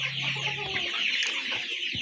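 Bahama hens clucking steadily nearby, a busy overlapping chorus of short throaty calls with no talk.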